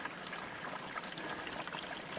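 A small waterfall with little water trickling down a series of rock steps, a faint, steady splashing and rushing with no talking.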